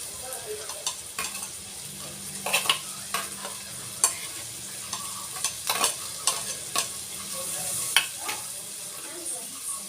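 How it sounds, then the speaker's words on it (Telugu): Finely chopped onion sizzles quietly in a pan with steady frying crackle, while a spoon stirs and scrapes in light, irregular taps throughout. "సన్నగా తరిగిన ఉల్లిపాయ వేస్తున్నాను."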